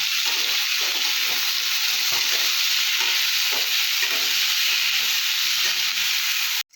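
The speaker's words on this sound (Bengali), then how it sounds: "আলুটা একটু ভেজে নেবো" Steady, loud sizzling of potatoes frying in a hot pan with salt and turmeric, a continuous hiss with faint scraping stirs throughout, no voices.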